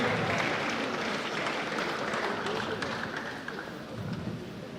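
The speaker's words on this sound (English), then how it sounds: "A round of applause, please." Audience applause at an award ceremony, a steady dense wash of many hands clapping throughout, fairly loud and continuous with no pauses.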